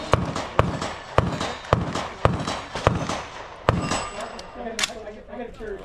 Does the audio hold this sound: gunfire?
yes